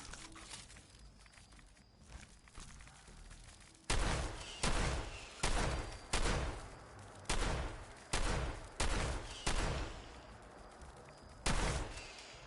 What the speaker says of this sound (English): It is a shotgun.